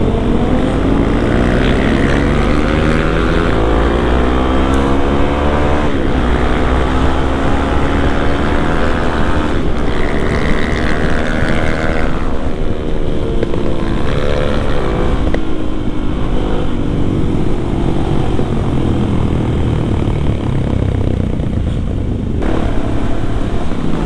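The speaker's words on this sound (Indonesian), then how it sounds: "ZX25 melengking parah aja." A Kawasaki ZX25 motorcycle engine screams at high revs on a night ride through Lembang, its loud, close engine note rising and falling in pitch steadily for over twenty seconds alongside other traffic.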